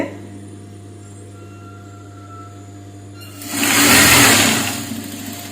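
A sewing machine runs a short stitch down the centre of a blouse, starting after about three seconds of quiet hum and whirring loudly for roughly two seconds with no talk.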